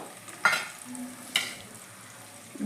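Masala spices with chilli powder, salt and cumin powder fry in oil in a pan, a soft continuous sizzle broken by two sharp scrapes of a spoon stirring, close and without talk.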